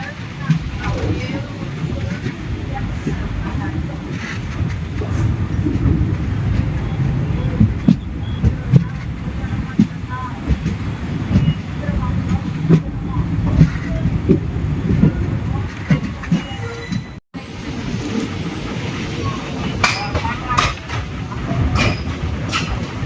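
The Sapthagiri Express, a daily train from Tirupati to Chennai, rumbles steadily from on board, with continuous low wheel roar and occasional clicks of the track, loud and sustained.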